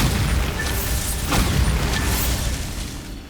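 A booming Bombarda blasting-spell explosion in the video game Hogwarts Legacy, loud and close, with a sharp burst and rumbling debris that tails off.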